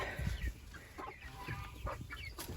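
Backyard chickens kept for eggs cluck and squawk in short, irregular bursts, fairly close and moderately loud, with no talking.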